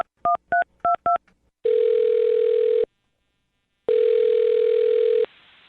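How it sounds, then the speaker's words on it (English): Telephone keypad dialing: five quick dual-tone beeps in a fast burst, followed by two long, loud ringback tones separated by a second of silence, clean and close with no talking. "I'm dialing her phone number right now."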